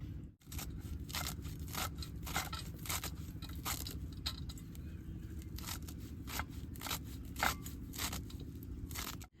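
A knife cuts through potatoes and an onion for cooking with amrul greens, making a rapid series of crisp slicing and crunching strokes, close and fairly quiet, with no talking.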